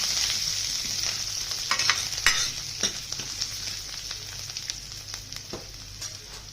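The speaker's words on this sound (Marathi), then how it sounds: "छानपैकी असे खमंगाची फोडणी करून घ्यायची." A spice tempering of cumin, mustard seeds, curry leaves, asafoetida and coriander sizzles in hot oil, a bright steady hiss broken by crisp crackles and spoon scrapes close up.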